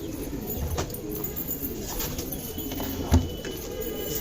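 Pigeons cooing softly as they peck at scattered grain, low murmuring calls over a busy background with one brief thump, no speech.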